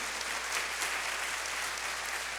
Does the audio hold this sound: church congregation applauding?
yes